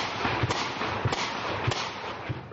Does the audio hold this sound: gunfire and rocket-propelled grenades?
yes